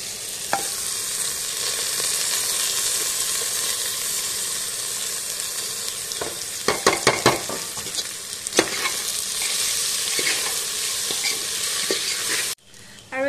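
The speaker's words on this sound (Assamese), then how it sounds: "এতিয়া ইয়াত চাউলখিনি দি দিছো" Rice fries in hot oil with cinnamon and cardamom for pulao, a steady loud sizzle and hiss with a few scraping stirs of a spoon partway through, then a brief cut near the end.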